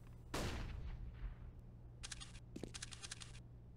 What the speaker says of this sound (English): shoots off a couple of shots